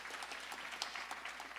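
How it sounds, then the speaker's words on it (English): A crowd at a grand opening event claps for two senators. The clapping is dense, continuous and fairly faint, heard over a low steady hum. "Let's give them a round of applause."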